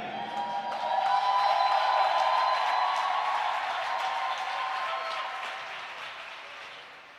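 Church congregation applauding together, a steady wash of clapping that swells within the first second and holds before gradually tapering off toward the end.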